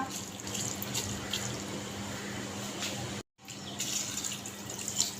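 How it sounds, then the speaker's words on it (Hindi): A glass of water is poured into beef keema in a mixed vegetable beef keema dish, a steady close splashing rush that cuts off briefly and then resumes. "जहाँ पर मैं डाल दूँगी 1 गिलास पानी का।"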